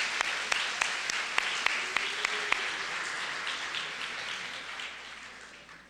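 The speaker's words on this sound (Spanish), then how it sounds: "Démosle un fuerte aplauso." Audience applause at a university singing festival, a steady crowd clapping with a few loud, distinct claps near the start before gradually fading out.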